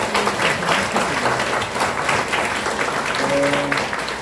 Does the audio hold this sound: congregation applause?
yes